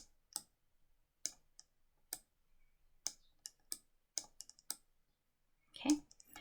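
Computer mouse clicking, a series of crisp isolated clicks spaced irregularly through quiet, some in quick pairs, ending with a brief louder rustle.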